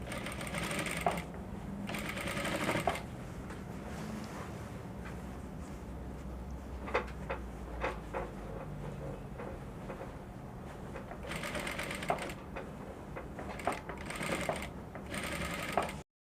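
A sewing machine stitching lace onto a bubu dress, running in a soft, steady hum with brief stops and restarts and a few faint mechanical clicks, heard close by.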